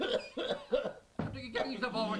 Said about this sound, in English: Stop coughing, lad.